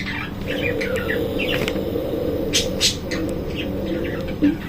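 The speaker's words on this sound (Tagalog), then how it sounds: "tapos ito yung kanyang mga lovebirds. Ayan oh. Ang iingay ng mga yan." Pet lovebirds chirp noisily in a busy run of short, high, overlapping calls over a steady background hum, with people talking nearby.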